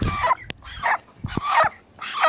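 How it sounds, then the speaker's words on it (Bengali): A 30-day-old broiler chicken clucks and squawks while being caught by hand for weighing on a farm, giving four close, loud bursts of agitated calls with brief pauses between them. "এখান থেকে আমরা আরেকটি মুরগি ধরে নিলাম"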